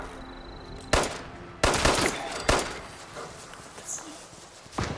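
Gunfire in Fallout 76: a few sharp, loud broadband shots, spaced about a second apart, over a low game background, then quieter rustling and movement.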